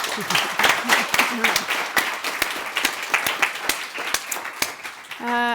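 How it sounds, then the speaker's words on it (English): A conference audience applauds a bioenergy panel, dense clapping that thins toward the end, fairly close, with a voice speaking through it. "Round of applause for them."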